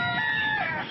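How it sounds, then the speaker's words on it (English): Domestic rooster on Kauai giving a classic cock-a-doodle-doo crow, close and loud, ending in a drawn-out final syllable that fills most of the short moment on its own. "So that's a nice classic domestic crow with the really long last syllable."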